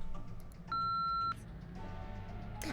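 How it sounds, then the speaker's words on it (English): A single steady censor beep lasting about half a second masks obscenities in the Tiny Bunny video game, sounding clearly above a low, quiet background. "Obscenities were covered by another beep."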